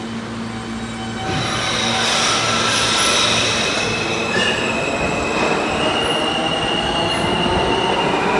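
A New York subway F/M train rumbles steadily past at 23rd Street station with metallic wheel squeal and clatter, loud and continuous after a quieter start, no voices.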